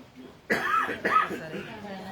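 Two harsh, throaty coughs in quick succession, close and fairly loud, from a person giving a spoken lesson, with a slight raspy tail after each.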